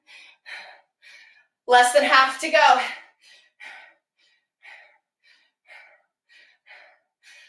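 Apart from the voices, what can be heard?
heavy breathing during strength training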